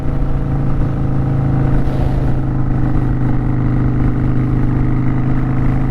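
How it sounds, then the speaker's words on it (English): Kawasaki Vulcan Classic 900 V-twin motorcycle engine running steadily at close range, a loud, even low throb with a pulsing rhythm that holds without a break. "And I really like how this bike sounds. I really do. The V-twin."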